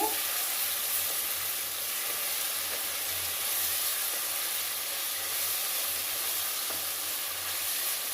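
Salted bitter gourd mixture being stirred in a pan, a steady hiss and sizzle with faint scraping that continues evenly throughout, no voices.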